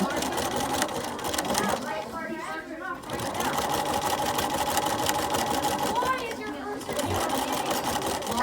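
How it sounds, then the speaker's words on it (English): A sewing machine stitches over the edge of a pillowcase in fast rhythmic bursts, pausing briefly twice, close and clear, while a person talks over it. "I'm just going to stitch over the edge"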